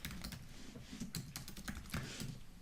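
Typing on a computer keyboard while writing a new blog article: rapid, irregular clicks and key taps, close and fairly quiet, with no talk.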